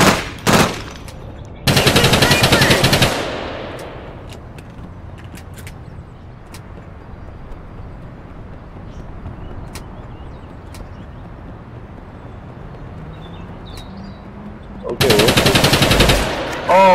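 Bursts of rapid automatic gunfire in the online shooter APB: Reloaded, a long loud volley near the start and another at the end, with quieter ambient game noise and engine hum between.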